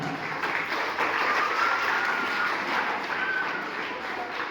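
A crowd claps steadily and densely at a school ceremony held by RHSS to welcome a guest, the applause sustained at an even level throughout.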